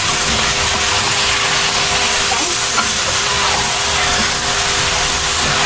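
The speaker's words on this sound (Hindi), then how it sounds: "ये हमने मटन इसके अंदर ऐड कर दिया है और इसका हम अच्छी तरह से मिक्स कर लेंगे" Mutton mixed into masala in a pan for mutton karahi gives a loud, dense, continuous hissing sizzle throughout, close up, with no voices.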